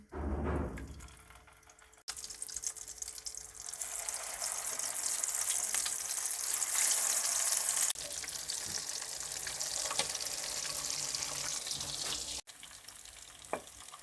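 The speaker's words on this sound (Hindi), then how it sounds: "शामी कबाब को शैलो फ्राई करेंगे मीडियम आंच पर।" Shami kebabs shallow frying in hot oil over medium heat: a steady, bright, close sizzle that swells and keeps on with a couple of abrupt breaks, without talk.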